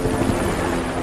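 A helicopter's loud, throbbing rotor chop fills the moment, close and continuous.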